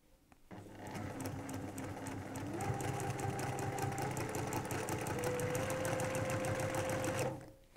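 A sewing machine stitching fabric with beige thread runs alone and close, a steady rapid mechanical whir and ticking that starts up, holds for several seconds, and stops.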